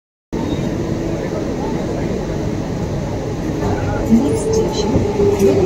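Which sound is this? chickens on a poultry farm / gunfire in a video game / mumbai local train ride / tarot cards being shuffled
mumbai local train ride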